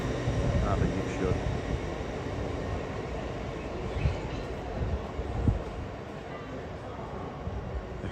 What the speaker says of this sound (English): There's a 170 coming in onto platform 3.